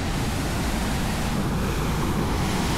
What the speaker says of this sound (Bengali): পাথরের ফাটলের মধ্যে দিয়ে কীভাবে জল ওপরে উঠে আসছে দেখুন